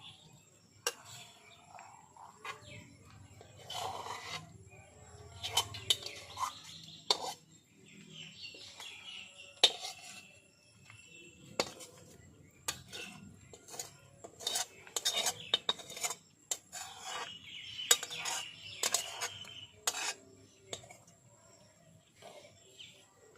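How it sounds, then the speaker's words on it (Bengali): Metal utensils clink and scrape against a plate and pan as home-made whole wheat pasta is served, in quiet, scattered taps and rattles with faint bird chirps in the background. "এখন পাস্তাটাকে আমি প্লেটের মধ্যে ঢেলে নিচ্ছি।"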